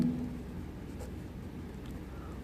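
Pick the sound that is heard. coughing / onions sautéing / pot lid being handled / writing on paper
writing on paper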